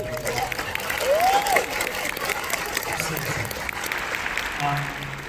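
Theatre audience at a Hollywood film premiere applauding steadily for several seconds, a moderately loud wash of clapping with a voice speaking over it and a few pitched tones drifting through.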